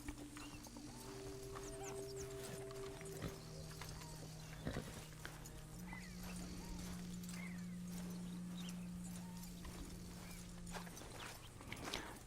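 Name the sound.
horse in Red Dead Redemption 2 video game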